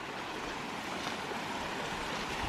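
Stream water running downhill beside an abandoned greenhouse, a steady broadband rush and trickle close by, continuous and even with no voices.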